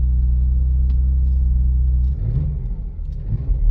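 A 2017 Porsche Macan engine with about 90,000 miles idles with a deep steady rumble, then swells into a couple of revs with rising pitch toward the end.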